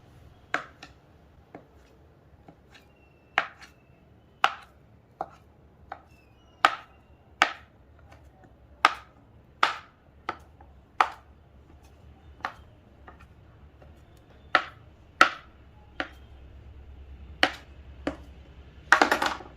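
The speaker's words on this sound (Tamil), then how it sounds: "இந்த மாதிரி உருட்டிட்டு நம்ம சின்ன சின்ன பீஸாக கட் பண்ணிக்கலாம்." A knife chops potato dough into small pieces on a board, about twenty sharp, evenly spaced cuts in a steady rhythm, close up with no talking.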